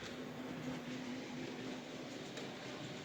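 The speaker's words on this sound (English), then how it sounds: "we'll give it a wee push and see how it rolls" Very light, unweighted model railway wagon pushed along track, rolling with a faint, steady low rumble and soft continuous hiss for a few seconds, no voices.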